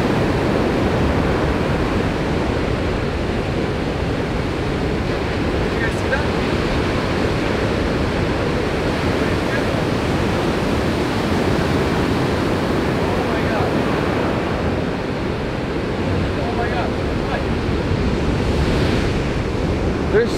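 Heavy ocean surf at the Pipeline surf break roars continuously for twenty seconds, a loud, dense wash of breaking waves mixed with gusting wind buffeting the microphone.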